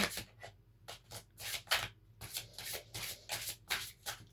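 Oracle cards are shuffled by hand in rapid, rhythmic riffling bursts, close and clear with short pauses between passes and no talking.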